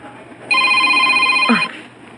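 A telephone rings once in an airport terminal, a bright electronic ringtone tone lasting about a second, close and clear against quiet background.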